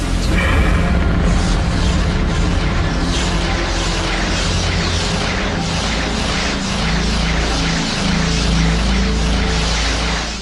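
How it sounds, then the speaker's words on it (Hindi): A loud, sustained rumbling blast with deep booming low end, rolling continuously for several seconds like a big cinematic explosion effect depicting the Big Bang. "हमारे ब्रह्मांड में अचानक विस्फोट हो गया"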